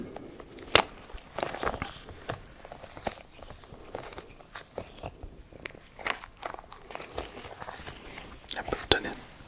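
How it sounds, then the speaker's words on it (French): Someone bites into something crunchy during a whispered doctor role-play. A string of close, crisp cracks and crunches repeats irregularly throughout, with soft whispering around them. "Crac, crac, croquez dedans"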